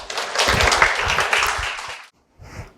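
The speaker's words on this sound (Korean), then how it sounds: "박수 한 번만 더 치세요." An audience claps steadily for about two seconds, then the applause stops abruptly, followed by a short burst of something after a pause.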